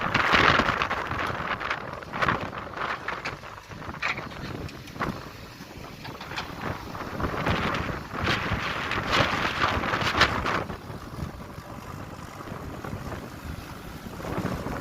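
Strong wind sweeps across a farm where a pond is being dug with a tractor and JCB, roaring in loud, uneven gusts that buffet the microphone throughout.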